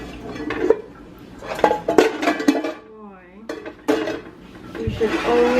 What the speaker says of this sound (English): You should always clean your dishes.